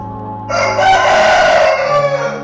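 A rooster crows once in the morning, a loud, close, drawn-out cock-a-doodle-doo rising and then tapering over about two seconds, with no other sound around it.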